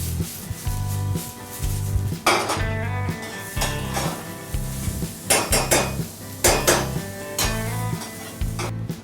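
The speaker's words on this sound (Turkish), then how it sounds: "Doğranmış olan soğanımızla siyah mercimeğimizi soteliyoruz." Onions and black lentils sizzle in a pan while a spoon repeatedly scrapes and clatters against the metal in an uneven stirring rhythm.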